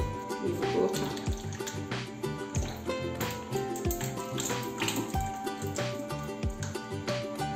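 Liquid sloshes as a bottle of 40-volume hydrogen peroxide is shaken, giving irregular wet splashes and knocks, close and moderately loud.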